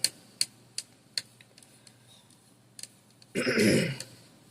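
A few sharp, isolated clicks or small coughs are spaced apart, followed by a single rough, loud throat-clearing burst near the end.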